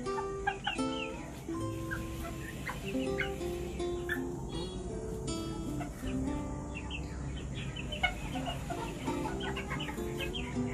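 Vietnamese bantam chickens (gà tre) cluck steadily in a busy yard, with overlapping calls near and far and faint chirps mixed in throughout.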